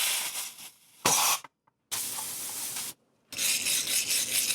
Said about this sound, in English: I hit them all with brake cleaner and a wire brush and a little bit of acetone